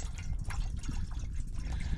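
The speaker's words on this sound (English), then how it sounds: "So I'm going to go ahead and get some water in here." Water pours steadily into a pot for boiling pasta on a boat during an overnight fishing trip, a continuous close splashing fill with no talk.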